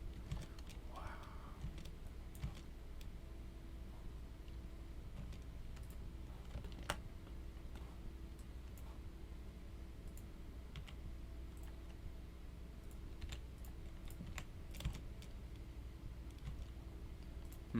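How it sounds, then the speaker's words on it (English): Keys click on a computer keyboard, a faint and sparse scatter of individual keystrokes over a steady low hum, with no rapid typing run. "I was like typing the word red because you can type it with only your left hand."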